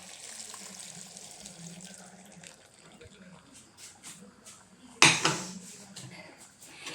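Coconut milk, first and second extracts combined, is poured into a Kerala-style duck curry in a pot, a faint soft liquid trickle with light kitchen clatter and one sharp clank-like splash near the end.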